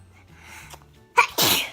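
A single loud, close sneeze in a home during a children's toy unboxing, a sharp breathy intake followed by a strong burst over a faint room hum.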